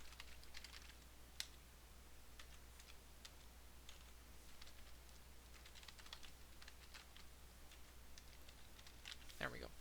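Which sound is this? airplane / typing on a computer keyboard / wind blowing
typing on a computer keyboard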